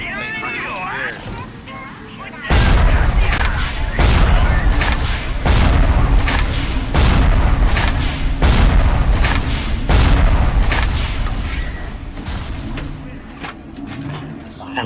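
Frag grenades burst in heavy, rapid succession during BioShock gameplay, loud booming blasts pounding roughly every half second for over ten seconds after a quieter stretch with a voice talking.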